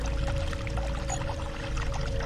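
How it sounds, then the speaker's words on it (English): Water pours steadily from a pipe in the video game Crucible Falls, a constant rushing splash that stays loud and even from start to finish, with a low game hum beneath it. "What a great water effect coming out of this pipe"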